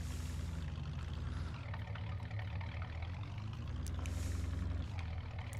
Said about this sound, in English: I've never heard a golf cart that sounds like this